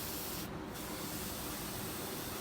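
A steady hiss of spray is applied to the eye area of a whitetail deer mount during taxidermy finishing, a continuous close spray with one brief change partway through.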